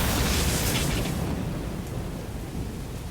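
Lightning strike in the video game AI: The Somnium Files, a loud broadband thunder crack that fades into a sustained rumbling roar over about three seconds, heard alone.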